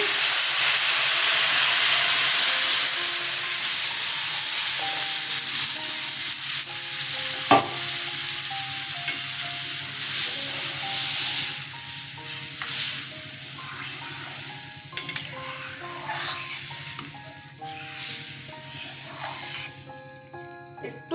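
Dal poured into a hot pan sends up a loud hiss and sizzle that slowly fades into softer bubbling frying, with occasional clinks of a utensil stirring.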